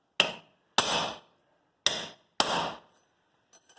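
A hammer striking a chisel on a Ford Ranger front axle: four loud, sharp metallic blows in an uneven rhythm, each ringing briefly, then faint clinks.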